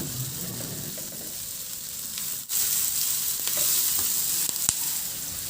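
Garlic and onion sautéing in hot oil in a pan, a continuous close sizzle with a few scraping stirs and clicks over several seconds, no speech.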